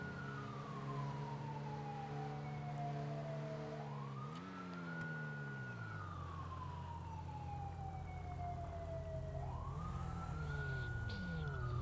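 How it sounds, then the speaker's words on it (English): A police siren wails in the SFLRP roleplay video game, sweeping slowly up and down in long continuous cycles, loud and steady throughout with faint background traffic rumble. "We're finding someone based on their ambient siren"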